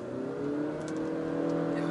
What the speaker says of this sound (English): that's the sound of the engine when you go full beans